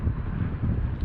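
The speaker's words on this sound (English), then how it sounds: "That was a good gust." Strong gust of wind buffeting the microphone outdoors in freezing weather at an RC flying field, a steady loud low rumble with no speech, filling the whole moment.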